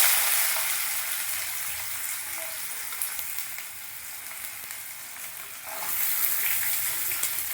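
Chopped onions frying in a pan, a continuous dense sizzle that dips slightly midway and swells again toward the end, close and loud with no talking.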